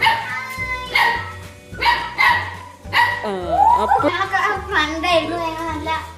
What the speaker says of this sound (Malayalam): അറ്റാക്ക് അറ്റാക്ക് അറ്റാക്ക് ഇത് അപ്പു ഡോഗ്